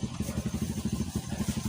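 A motorcycle engine running steadily with a fast, regular pulsing throb, close and fairly loud throughout, with no voices over it.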